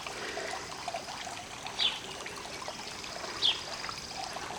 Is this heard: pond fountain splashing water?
yes